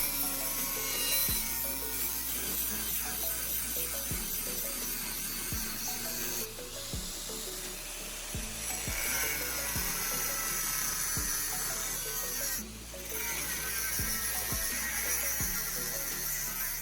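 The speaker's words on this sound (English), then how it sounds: "I'm using an angle grinder to cut it along the marked lines" An angle grinder cuts along marked lines in a steel U-channel, giving a continuous, harsh, high-pitched whine and hiss that stays steady throughout, with faint periodic ticks beneath it.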